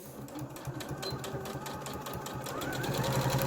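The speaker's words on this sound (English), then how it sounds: "put your needle down, go forward and reverse to lock it off." Sewing machine stitching fabric for a Roman blind, running forward and then in reverse to lock off. Rapid rhythmic mechanical clatter, close and steady, gradually rising in level.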